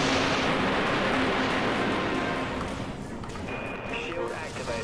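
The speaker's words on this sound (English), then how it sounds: "Autoguns fired up." Rapid autogun fire from warships in the space combat game Dreadnought, a dense continuous rumble of shots and blasts that is loud throughout and eases slightly toward the end.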